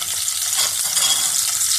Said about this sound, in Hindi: अब मैं हल्की सी शिमला मिर्च फ्राई करने लगी हूँ।